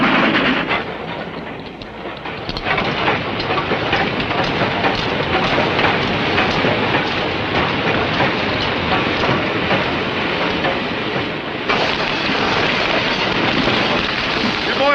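A steam train hauling passenger day coaches rumbles and rattles loudly up close, with a steady clanking roll and broad hissing noise that holds for the whole stretch and surges again near the end, while a voice is faintly heard.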